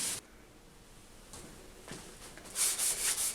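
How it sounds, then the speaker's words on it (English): Varnished wood being smoothed by hand with 320 grit sandpaper: a faint, quiet rub at first, then a quick run of short, brisk scratchy strokes near the end. "I'm going to be using the 320 to just smooth the top"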